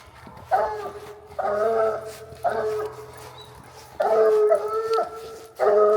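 Hunting hound baying at a den tree after treeing an animal, drawn-out howling bays repeating in bursts about every second or two, fairly close and loud, with faint outdoor background between calls.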